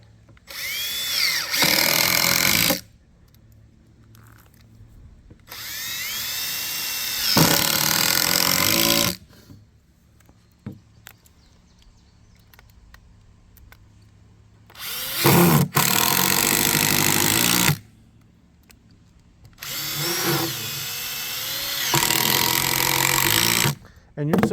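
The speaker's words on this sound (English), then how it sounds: "you're sinking these screws in a little bit so that they wouldn't catch on anything" Power drill driving screws into number 2 pressure-treated pine boards while building a large advertising chair, with four loud close bursts of high motor whine of several seconds each, separated by quieter pauses with faint handling noise.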